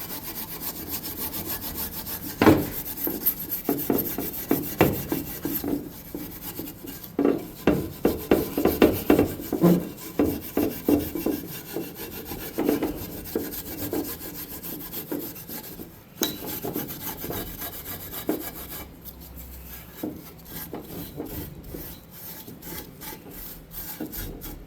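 Scotch-Brite pad scrubbed over the head gasket surface of a 2009-2015 Toyota Prius engine, giving a close, steady rasping rub with rhythmic strokes that bunch together in the middle, then thinner, irregular scraping toward the end.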